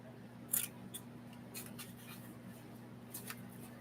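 Scissors snip through a strip of craft material in a quiet room, several crisp close cuts spaced irregularly over a low steady hum.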